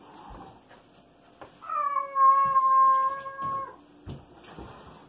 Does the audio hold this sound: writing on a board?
no